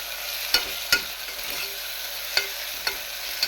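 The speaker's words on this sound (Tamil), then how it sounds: "இஞ்சி பூண்டு பேஸ்ட் ஆட் பண்ணிக்கலாம்." Ginger garlic paste frying in a pan, a steady bright sizzle running throughout with a few sharp clicks of a stirring utensil against the pan, close and even, with no talking.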